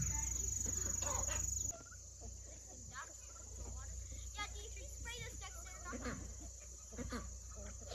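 Chickens on a homestead cluck softly near a steady background of insect buzzing, while a voice talks over them in short bursts.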